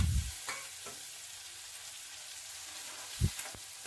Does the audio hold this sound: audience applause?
no